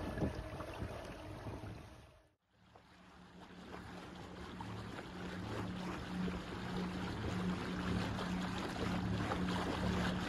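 A sailboat motoring through open water off Koh Tao in Thailand; a continuous low engine drone mixed with water wash and wind buffeting, steady throughout apart from a brief dip near the start.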